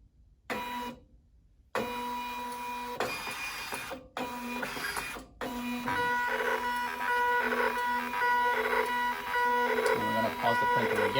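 A Zebra label printer boots up, whirring and beeping through a series of start-up tones and mechanical buzzes, with brief silences between bursts and steadier humming toward the end.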